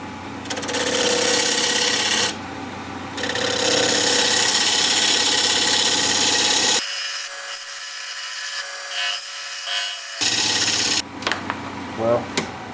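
A 5/8 inch bowl gouge cuts wood on a lathe running at 1,000 RPM, making a steady close scraping hiss with one brief gap. A quieter section near the end carries irregular rubbing and knocks.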